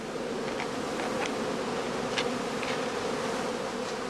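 Honeybees in a heather skep apiary make a dense, steady buzzing drone that fills the whole stretch without pause, with a few individual bees briefly passing closer.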